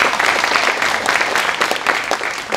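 Dense applause from an audience at a school dedication ceremony, continuous close clapping filling the short moment without a break.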